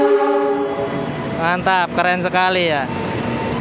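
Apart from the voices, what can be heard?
Argo Merbabu passenger train passing with horn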